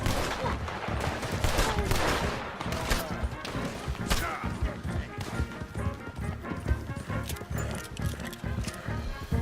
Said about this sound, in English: Open fire on them!